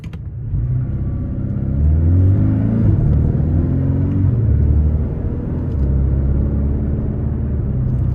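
A 2022 Porsche Cayman T with its adjustable exhaust revs up loudly and close, the engine note climbing, holding, dipping and rising again in a deep, rumbling growl, with no voices.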